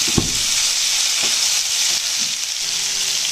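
Garlic and green chili sizzle steadily in hot oil for a dal tadka, a loud, dense frying hiss with a few soft stirring knocks near the start.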